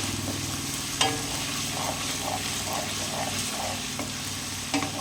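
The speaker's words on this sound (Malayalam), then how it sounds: "ഇത് 2-3 മിനിറ്റ് നല്ലോണം വറുത്തെടുക്കണം." Finely chopped ginger fries in oil for mango pickle, giving a continuous close sizzle with soft bubbling and two sharp clicks of a stirring spoon against the pan, no voices.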